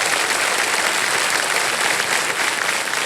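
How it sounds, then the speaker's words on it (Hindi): Loud, steady studio-audience applause from a large crowd on the set of the quiz show Kaun Banega Crorepati, a dense unbroken wash of clapping lasting about three seconds with no talk. "बार जोरदार तालियां हो जाए हमारे कंपनी की।"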